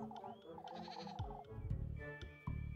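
A goat bleats in a series of wavering, nasal cries, fairly close and clear, with light game-like background sounds.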